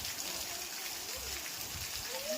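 Steady, dense rain hisses throughout, a broadband wash of falling water with faint tonal sounds in the background.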